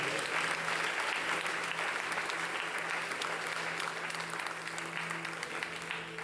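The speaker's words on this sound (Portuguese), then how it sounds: "Uma salva de palmas ao Senhor" A church congregation breaks into sustained, enthusiastic applause during a worship service, a loud, dense clapping from many people that fades slightly toward the end.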